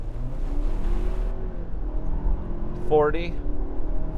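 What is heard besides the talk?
Ford Ranger Tremor accelerating 0 to 60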